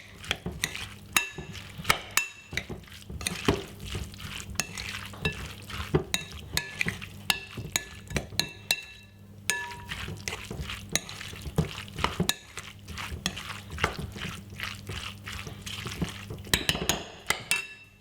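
Tuna salad being mixed with mayonnaise in a bowl, a spoon scraping and clinking steadily against the sides with wet squelching, continuous and close for the whole stretch.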